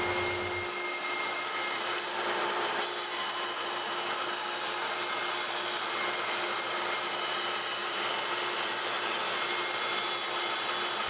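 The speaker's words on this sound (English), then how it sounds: "After rough cutting all the legs at the bandsaw" A bandsaw rough-cuts wooden bar stool legs, giving a continuous loud, even whine and hiss of blade through wood that holds steady throughout with no talk.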